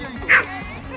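A single short, sharp dog bark or yip sounds close by, surrounded by a faint background hum.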